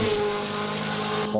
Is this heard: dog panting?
no